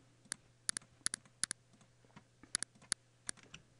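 Computer mouse clicks picking out pictures one by one while Control is held, a string of sharp, close, quiet clicks, mostly in quick pairs, with no talking.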